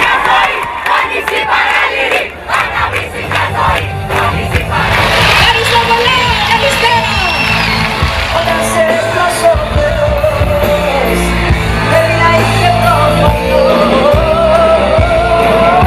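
A large crowd at a live concert roars with loud, sustained cheering, whistles and shouts, swelling and continuing without a break throughout.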